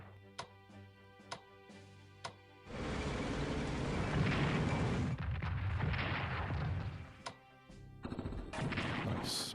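Battle gunfire in Strategic Command WWII as a special forces unit attacks: a few sharp isolated shots, then a sustained loud roar of rapid fire and explosions lasting several seconds, followed by more scattered cracks.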